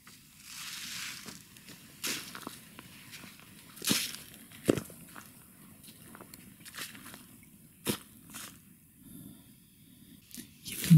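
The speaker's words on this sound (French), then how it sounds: "Il y a comme des bruits de pas." Footsteps trailing someone in a werewolf-themed setting: a series of irregular soft steps and crunchy thuds, some sharper and closer, spread over a low rumbling background with no talk.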